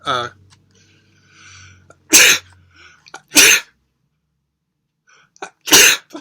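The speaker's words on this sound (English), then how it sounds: "I was sneezing like crazy." Three sharp, loud sneezes close to the microphone, separated by pauses, with brief soft talking near the start.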